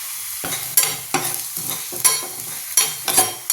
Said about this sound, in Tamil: சின்ன உள்ளி போட்டு உள்ளி நல்லா வதங்கிட்டு